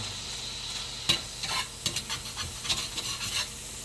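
Eggs frying in butter in a cast iron pan crackle steadily up close, while several rasping scrapes from stirring cluster in the second half.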